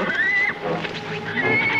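Horses whinnying in an old 1953 Western chase scene, a high wavering neigh rising loudly near the start and again at the end over a busy, dense mix of hoofbeats and action noise.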